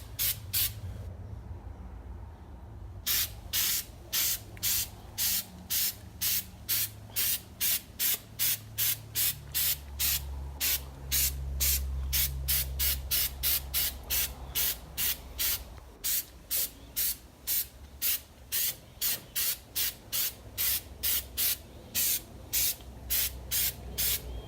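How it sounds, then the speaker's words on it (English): Spray paint from an aerosol can coating an R34 Skyline Nismo intercooler air duct, heard as many short, evenly repeated bursts of hissing spray, close and loud, over a low background rumble. "It doesn't have like a fine spray pattern like you do get on your other stuff."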